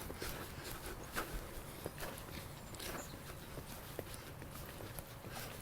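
Hooves of a horse walking during a riding lesson thud at a steady, unhurried pace on soft ground, with irregular clip-clop beats standing out from a quiet outdoor background.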